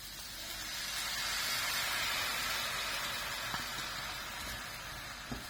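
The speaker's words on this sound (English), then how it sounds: "Now the chicken's sizzling nicely, we're going to add our 1 pot of water." Chicken pieces sizzle in a hot pan for a curry, a loud, steady hiss that swells and holds without a break, with a few faint clinks near the end.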